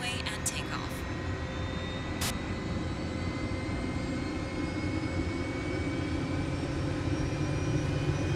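Aircraft engine noise from a takeoff in Microsoft Flight Simulator 2020, a steady loud drone with faint rising tones and brief clicks early on, continuous throughout.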